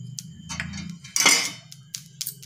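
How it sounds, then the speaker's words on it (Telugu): Sesame seeds tipped into a pan to fry for fig dry-fruit laddoos, with light rattling, clinks of a spoon on metal and a brief louder clatter as they go in. "తర్వాత నువ్వులు వేసుకొని ఫ్రై చేసుకోవాలి."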